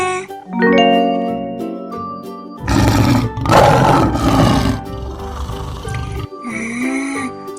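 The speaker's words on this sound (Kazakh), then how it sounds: "арыстан," A lion lets out several deep, rough roars in a loud burst lasting a few seconds, preceded and followed by short tonal chimes.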